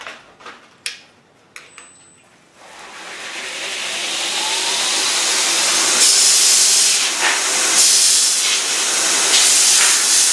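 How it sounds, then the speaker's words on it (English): A belt sander spins up and runs on metal parts of a cannon being restored, a loud steady rushing hiss with grinding bursts as the workpiece is pressed, after a few sharp knocks and clicks beforehand. "And we're just going to turn the sander on."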